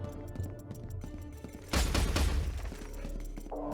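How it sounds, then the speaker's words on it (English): Gunfire shattering a window in the cyberpunk video game Foreclosed: a sudden loud burst of shots and breaking glass crashes in after a quieter stretch of game ambience and mechanical ticking, then fades into a lingering rumble. "We can shoot through the window."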